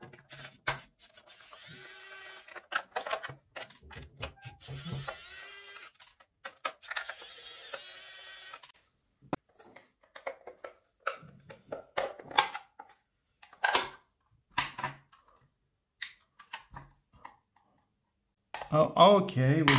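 Small screws are worked out of the battery compartment of an automatic soap dispenser during a teardown, giving scattered close clicks and scraping taps, with several short pauses between bursts.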